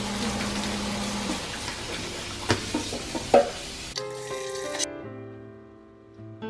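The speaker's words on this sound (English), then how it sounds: "I'm gonna cook these in a frying pan with olive oil, taco seasoning, and hot sauce." Chickpeas and beans frying in a pan with olive oil, taco seasoning and hot sauce give a steady close sizzle with stirring scrapes, then the sizzle drops away and a quieter hum remains.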